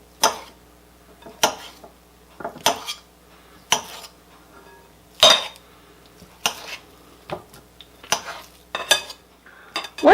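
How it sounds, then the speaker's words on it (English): Softened lard broken up by hand in a large bowl for meat pie pastry, heard as a run of close, irregular clinks and knocks against the bowl with short pauses between bursts. "Start by placing the softened lard into a large bowl and breaking it up into small pieces."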